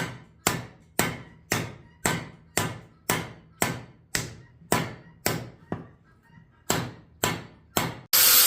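A metal tractor seat is hammered into shape in a workshop, with about thirteen sharp, ringing blows at a steady rhythm of roughly one per second and a brief pause before the last few.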